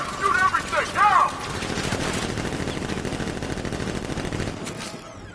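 Sentry guns fire in Batman: Arkham Knight, a sustained rapid stream of automatic gunfire that runs for several seconds after a brief burst of shouted voices, then cuts off.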